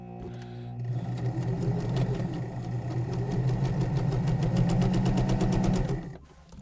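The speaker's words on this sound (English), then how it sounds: "I love the sound of bobbin rewinding." A home sewing machine rewinds its bobbin with a loud, continuous motor whir that builds and speeds up into a rapid ticking rattle, then winds down and stops near the end.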